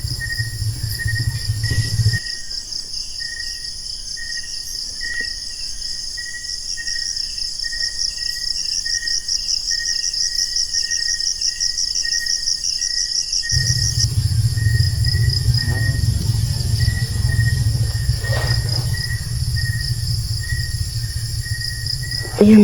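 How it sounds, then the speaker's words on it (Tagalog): Insects chirp at an abandoned house in the mountains: a dense, steady, high-pitched trilling that runs unbroken throughout, joined by a low rumble and faint noise at the start and again in the second half. "may insekto."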